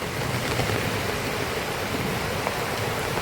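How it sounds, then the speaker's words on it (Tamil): Heavy rain pours down in Kanyakumari, a dense, unbroken roar of falling water that stays loud and steady throughout, with no voices. "இடி மின்னலுடன் கூடிய அடைமழை"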